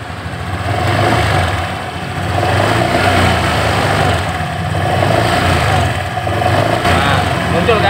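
A Honda Scoopy scooter engine runs loud and close in a steady rough drone that swells and eases as it is revved, with a person talking over it.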